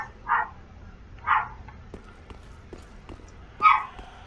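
A dog in the Dark Souls 3 video game barks three times, with short sharp yelps spaced over several seconds and the final one loudest, mixed with faint clanking game sounds.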